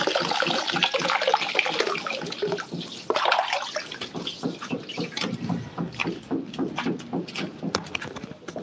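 Water runs from a kitchen tap in a home in the Philippines, a rushing, splashing stream that thins to irregular gurgles and drips as the flow is shut off, with voices in the room.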